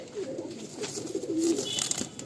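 Garia pigeons coo softly in low, rolling murmurs. The sound is steady and close but faint, with light background noise and no speech.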